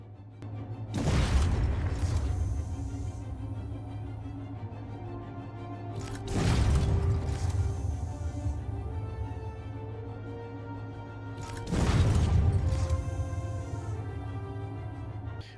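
Turret cannons fire in Star Citizen, with three heavy booming shots spaced several seconds apart, each trailing into a rumbling decay over a steady low mechanical hum.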